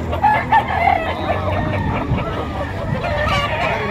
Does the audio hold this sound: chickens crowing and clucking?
yes